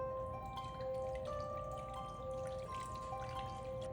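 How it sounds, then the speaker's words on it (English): Water pours steadily into a roasting pan set around a springform cheesecake pan, a continuous close splashing and trickling with bright dripping tones and no talk. "Now we're gonna add some water to the roasting pan."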